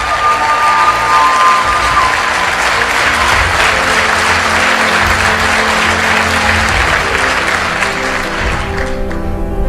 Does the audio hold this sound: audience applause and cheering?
yes